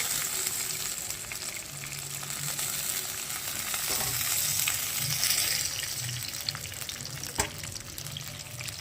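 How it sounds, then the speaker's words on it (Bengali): Fish fries in hot oil in a pan with a continuous, bright crackling sizzle, steady and close throughout, with a few faint clinks and scrapes as pieces are lifted out; no talking. "এবার মাছগুলো ভাজা হয়ে গেছে তুলে নেবো এক এক করে"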